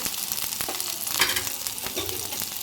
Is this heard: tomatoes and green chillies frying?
yes